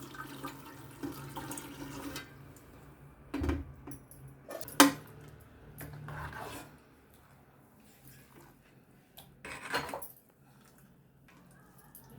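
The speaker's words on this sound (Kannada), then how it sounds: "ಆಮೇಲೆ ಇದನ್ನು ಸೋಸಪಾತ್ರೆಗೆ ಇಟ್ಬಿಟ್ಟು ಸೋಸಬೇಕು" Cooked vermicelli tipped into a metal strainer in a home kitchen, with water pouring and draining in bursts amid clinks and clatters of pots and utensils, close and moderately loud, no talking.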